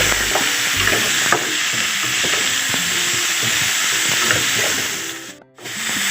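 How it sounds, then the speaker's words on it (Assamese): Drumsticks fry and sizzle in a pan with a steady hiss, while a utensil stirs and scrapes against the metal in irregular strokes. A brief dip near the end interrupts the continuous frying noise. "এইখিনি অকণমান সময়ত ভাজি থৈ দিব লাগিব।"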